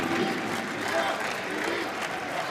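Egyptian handball supporters at the 2015 Men's World Championship in Doha fill the arena with a dense, steady wash of crowd noise, chanting and cheering blended into a continuous roar with faint melodic singing.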